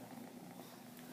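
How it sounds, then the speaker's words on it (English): A kitten purrs as a faint, steady, low rumbling drone that goes on without a break, very quiet and close. "this one's purring."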